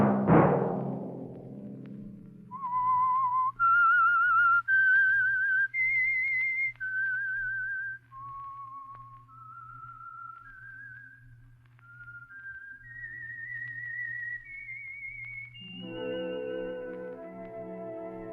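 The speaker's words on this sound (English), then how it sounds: "Let that whistle be your signal for the Signal Oil program, The Whistler" A solo whistled theme for The Whistler radio drama, a sponsor's signature tune: a clear, melodic run of sustained notes rising and falling over a low drone, with music swelling in near the end.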